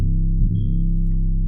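Overlapping 808 bass notes in FL Studio with the envelope switched off, a continuous droning, muddy low bass tone that never cuts off, loud and close with no talking.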